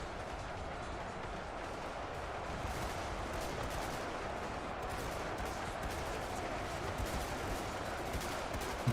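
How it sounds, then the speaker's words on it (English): Massed musket gunfire from a huge battle in Ultimate Epic Battle Simulator 2, a steady distant crackle of countless overlapping shots forming a continuous rattling wash, with no talking. "look at all the bullets going up into the sky because they're having to shoot over the mound of bodies"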